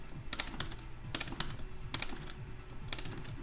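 Rapid keystrokes on a computer keyboard enter fighting-game inputs for Vampire Savior, coming in short clustered bursts of sharp clicks, close and fairly loud over a low room hum, with no talking.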